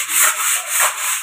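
Sandpaper rubbed back and forth on a wooden door, loud close strokes in a steady rhythm of about four passes, with no talking.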